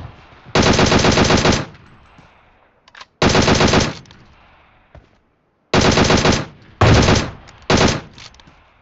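Automatic weapon fire in the mobile battle royale game PUBG Mobile, in several loud sustained bursts separated by short pauses, with a few brief isolated shots between them.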